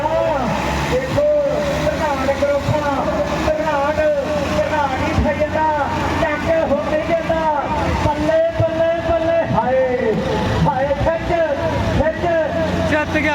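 A tractor engine roars continuously at a rural tractor pulling contest in Punjab, loud and close, its pitch rising and falling as it revs, under shouting from the crowd.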